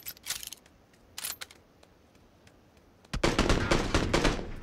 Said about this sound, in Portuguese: Vou tentar dar tiro nele.